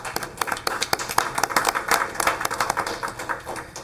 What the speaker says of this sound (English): So if we can give the principals a round of applause.